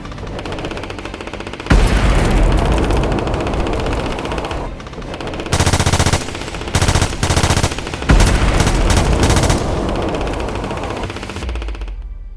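Intense D-Day beach battle gunfire in Normandy: sustained machine-gun bursts and rapid shots in several loud, dense volleys separated by brief lulls, close and harsh, with no voices.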